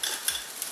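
Sauce mix goes into a pan of frying beef and vegetables for crispy chilli beef, a brief close burst of sizzle with a quick stir and light clink of utensil on pan.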